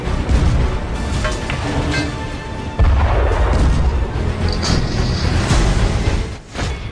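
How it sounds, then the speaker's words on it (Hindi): Booming blasts and rumbling reverberation from M777 ultralight howitzer artillery, with a heavy boom near the middle and sustained loud roaring noise around it. "M777 अल्ट्रालाइट होवित्जर तोप।"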